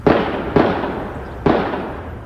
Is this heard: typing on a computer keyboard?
no